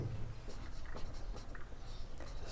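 Pen writing a calculus solution on paper, brisk scratchy strokes in short clustered bursts, close up and soft, with quiet background.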